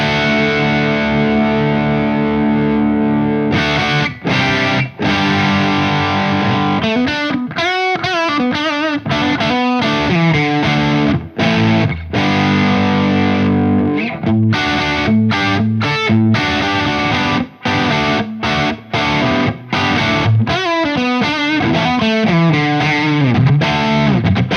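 Electric guitar played through a Synergy Morgan AC preamp with the gain turned up, a loud, continuous driven and distorted tone with sustained chords and choppy bursts, echo and chorus-like shimmer, no talking.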